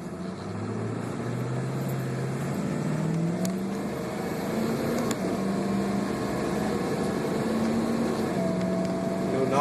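A Ford F350 pickup truck engine running smoothly with no knocks: a continuous low rumble with slowly rising and falling pitch, steady and fairly close.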